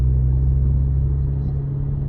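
A Hyundai Veloster engine hums steadily at a little over 1,000 RPM while cruising at about 25 mph in comfort mode, a close, continuous low rumble with no revving.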